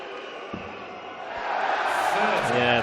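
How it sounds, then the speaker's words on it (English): Partisan crowd noise swells through a packed arena at a German Darts Grand Prix quarter final, a steady roar that builds louder over a couple of seconds, with voices calling out above it. "the partisan crowd playing their part maybe to just knock Sedlacek off his balance there"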